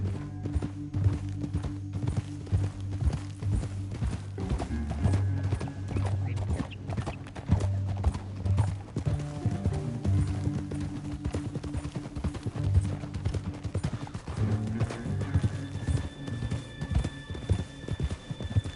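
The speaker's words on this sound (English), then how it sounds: "Up here, get off your horse." Horse hooves clip-clop steadily through the Red Dead Redemption 2 video game, a continuous trotting rhythm under game music and ambience, with an occasional whinny.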